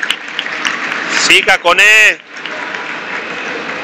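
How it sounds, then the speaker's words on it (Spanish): Crowd clapping steadily in a basketball arena during a Gran Canaria vs Girona game, a loud, even wash of applause with a commentator's voice rising briefly over it midway. "Suenan las palmas"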